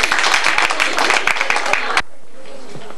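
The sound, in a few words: audience clapping in welcome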